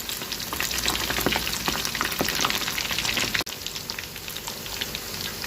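Chicken lollipops fry in hot oil, a loud continuous crackling sizzle with dense popping and a brief clatter partway through.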